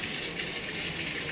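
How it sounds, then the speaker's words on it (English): Hot water running from a bathtub tap, a steady hissing gush at moderate level for a moment, with no voices. "All right, get your water going."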